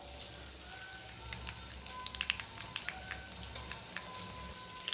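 Mustard seeds spluttering in hot coconut oil in a pan, a steady close sizzle peppered with many quick sharp pops throughout, fairly quiet and with no talk.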